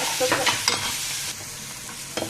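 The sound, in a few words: frying chicken and vegetables in a little oil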